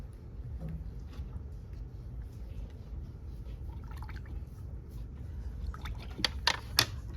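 Small dots of water drip onto a palette of watercolor paints, soft faint wet taps and squishes with a few sharper drops near the end, no speech.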